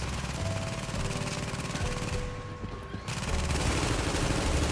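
Gunfire in the video game Tom Clancy's The Division: dense, loud rapid bursts of shots that dip briefly before resuming, with no talk.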